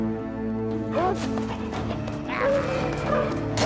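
Dog barks and whimpers from the video game Battle Brothers, a few short yips and whines over a steady bed of game music and ambience, fairly close.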